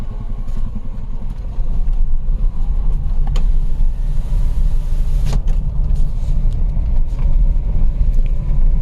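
A car approaching along a road on a night drive where a wild elephant was encountered, its engine rumble and tyre noise growing louder and steady, with a couple of brief sharp knocks along the way.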